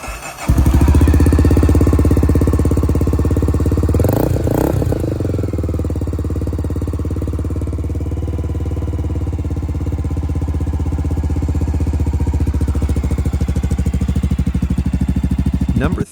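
A Honda GB500 TT single-cylinder motorcycle engine running steadily at idle, a loud, even throbbing with a brief rise in revs early on, then settling into a constant close drone.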